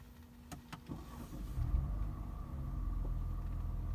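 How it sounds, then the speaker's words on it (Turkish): A BMW 320i engine sits parked and idling after a couple of faint clicks, settling into a steady, low, close rumble that continues alone without any talk. "Motorun çalışması bu şekilde."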